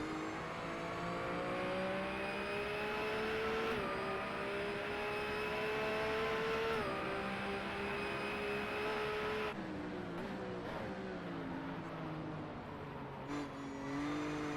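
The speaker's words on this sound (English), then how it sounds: "the cars still sound like they're right behind me" Several racing car engines in the video game Race Pro whine and rev continuously at high pitch, with gear shifts and shifting tones, loud and close, with no talking.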